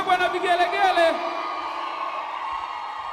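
Worship crowd at a live gospel service, where a high wavering voice ululates over cheering for about a second before the room settles into sustained, fainter crowd noise.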